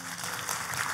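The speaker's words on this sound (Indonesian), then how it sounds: "Boleh kita kasih tepuk tangan?" Brief burst of applause from a church congregation, a dense steady patter of many hands filling the whole moment.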